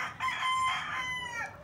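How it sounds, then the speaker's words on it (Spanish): Dark-feathered hens on a farm cluck while a rooster lets out a loud, drawn-out crow close by, with no talking over it. "Y aquí tenemos las gallinas oscuras, las caguans."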